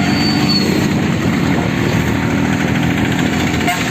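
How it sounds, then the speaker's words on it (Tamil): A two-stroke motorbike engine runs steadily after being started in rainy conditions, a close, loud, continuous buzzing drone with no break across the whole stretch. "வண்டி ஸ்டார்ட் ஆகி இப்போ வரைக்கும் ஸ்மூத்தாக ஓடிட்டுருக்கு நண்பா"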